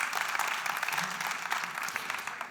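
A trade show audience applauds Stéphane Gilbert, and the dense clapping holds steady and fairly loud throughout, with a faint voice briefly underneath.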